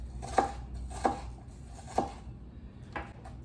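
Red onion being chopped with a knife on a cutting board, three crisp evenly spaced chops followed by a fainter fourth, close and alone in a quiet kitchen.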